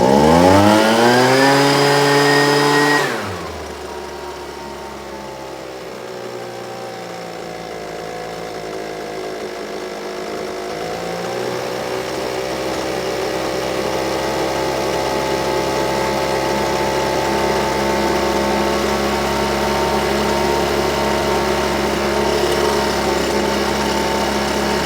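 Husqvarna 125BV leaf blower that will not stay running, after its high jet was adjusted: its small two-stroke engine drops from a high rev to a buzzy idle, then slowly climbs to a steady, loud, close whine with no talk over it.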